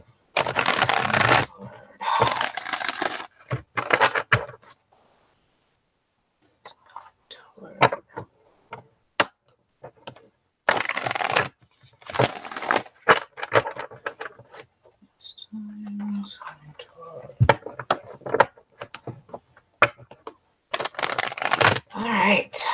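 Tarot cards being shuffled by hand, with bursts of riffling and flicking in several separate rounds, close and fairly loud, with quiet pauses between.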